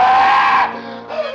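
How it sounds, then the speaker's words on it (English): A man's drawn-out scream of terror in an old radio drama, loud and close, starting high and strained before breaking into a lower, ragged cry. "The scream came at last, for Jafe Mourner had seen the devil."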